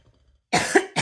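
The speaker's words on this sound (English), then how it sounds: "I still have a tiny bit of this cough remaining" A woman coughs after a short near-silent pause, two harsh close coughs in quick succession, loud and alone.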